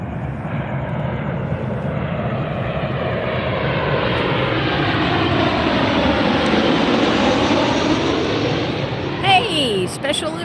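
A jet airliner in Alaska Airlines livery arrives at Las Vegas airport, its broad engine roar steady and loud for the whole stretch, swelling slightly near the end as it passes.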